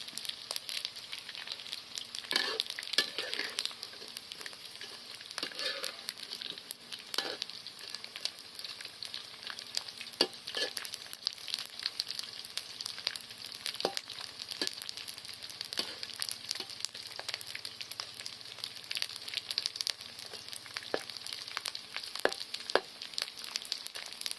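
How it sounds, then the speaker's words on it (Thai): Crispy mushrooms deep-frying in hot oil, a steady bright sizzle with crackling pops running throughout, close and fairly loud with no talking. "เราจะทอดเห็ดกรอบ เลยนะ พี่น้องทอดเห็ดกรอบ เลย"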